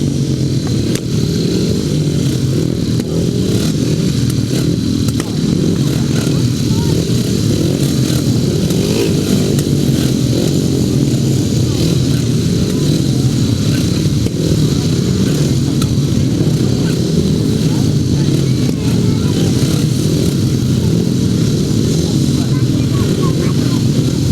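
Grasstrack racing motorcycles drone steadily at a North v South meeting as riders regroup for a race restart, a continuous loud engine roar with no pauses throughout.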